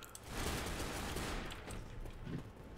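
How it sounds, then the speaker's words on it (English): Sustained bursts of rapid automatic gunfire fill a Left 4 Dead zombie co-op shooter match, loud and continuous throughout with barely a pause. "I almost walked right into your bullets, David."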